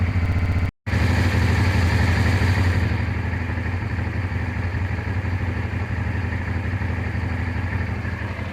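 A Honda XL 600 V Transalp, a motorcycle more than 30 years old, idles steadily close by with a low, even engine rumble and some mechanical clatter. A brief dropout comes near the start, and the engine then runs on unchanged.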